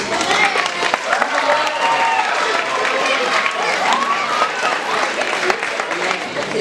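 Camp audience cheering and applauding after a farewell speech, a dense wash of clapping mixed with shouts and excited voices, loud and sustained throughout.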